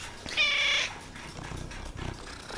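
A cat purrs up close in a soft rhythmic rumble, preceded by a short, higher, tonal meow-like cry near the start.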